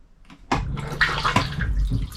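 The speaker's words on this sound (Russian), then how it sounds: "И спокойно сходил в туалет. Нажал на эту кнопочку." A motorhome toilet flushes after its button is pressed: a quiet moment, then a sudden close rush of gurgling water that keeps draining loudly to the end.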